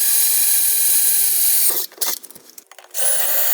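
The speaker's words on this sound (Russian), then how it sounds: "Для начала я взял сверло на 5 мм, потом сверло на 11 мм." A power drill with 5 mm and 11 mm bits whines steadily and loudly while drilling metal on an Audi 2.6 engine intake part, then breaks off into grinding, scraping bursts before the high whine resumes.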